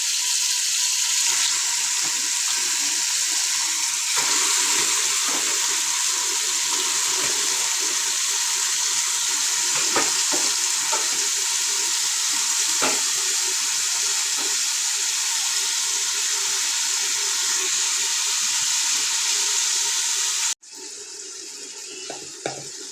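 Mutton pieces, washed two or three times, go into a pan of fried tomato and set off a steady, close hiss of frying that holds for about twenty seconds, then drops to a quieter simmer.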